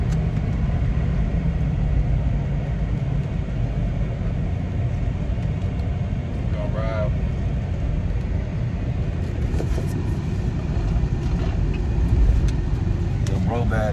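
A Grand Marquis car engine runs with a steady low rumble throughout, close and constant, while people talk over it.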